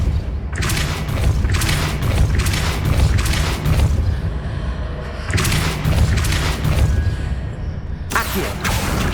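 Depulso repelling spell cast repeatedly in Hogwarts Legacy, heard as loud, forceful magical blasts and whooshing thumps in a few bursts, each a couple of seconds long, close and dense with no talking.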